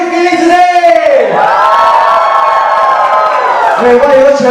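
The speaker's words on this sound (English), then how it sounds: "Wait, why you were cheering so loudly just now?" A live audience at a 2025 competition finale cheers and whoops loudly, a dense crowd roar with raised voices that swells and holds for several seconds.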